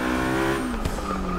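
McLaren hypercar in Forza Motorsport 6 at high revs, a loud engine whine that drops in pitch at an upshift, with a brief thump and then the tone climbing again.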